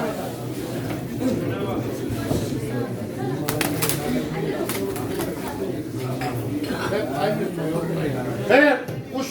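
Pigeons coo throughout a crowded pigeon auction in Çorum, their soft calls mixed with clattering and busy chatter from people nearby.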